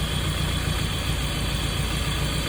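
A 1995 Nissan truck's 2.4L engine idling with lifter noise, heard up close as a dense, steady, loud rumble with a broad hissy wash and no talk.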